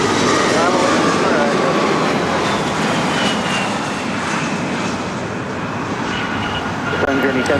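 An Embraer E175 airliner landing at LAX, a loud continuous jet roar with broad noise, close and sustained throughout, with some voice mixed underneath.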